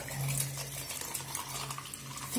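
Tap water runs continuously into a small pot while paint brushes are rinsed clean, a steady splashing hiss with faint stirring and knocking of the bristles, no voices.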